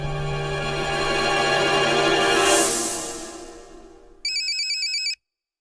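A swelling electronic chime fades away, then a phone rings with a rapid warbling electronic trill that cuts off abruptly.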